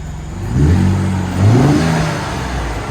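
A Gen 2 Ford Raptor with an aFe intake revs up twice, the engine rising and falling in two close, loud throttle blips over a steady idle.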